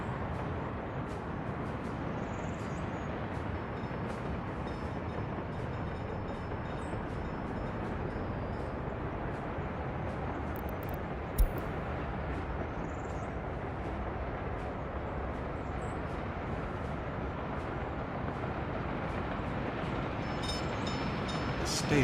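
A train in the game Workers and Resources rumbles steadily along the tracks for a long stretch, a constant rolling roar with faint metallic clicks and one sharp knock.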